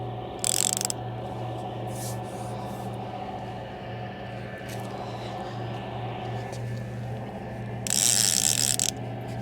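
A fishing reel set on ratchet while shore fishing for plaice at Brighton gives a fast, continuous mechanical clicking as line runs out. Two louder, sharper bursts stand out against steady outdoor background noise.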